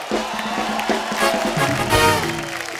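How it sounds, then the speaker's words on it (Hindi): A studio audience applauds and cheers loudly for Neetu Kapoor on a TV show set, a dense, steady wash of clapping and crowd noise with music playing underneath throughout. "जोरदार तालियां हो जाए हम सबकी फेवरेट ब्यूटीफुल नीतू जी के लिए"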